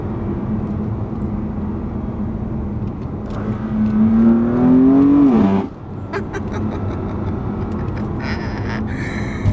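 A BMW M3 F81 Touring wagon's engine and exhaust rise in pitch as it accelerates hard on twisty roads, a loud sweeping rev that peaks and then drops off sharply into steadier cabin drone.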